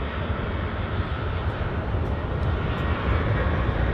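A WestJet jet airliner powers up on its takeoff roll at Vancouver airport, a steady, loud broadband engine roar that holds without a break and carries no talk.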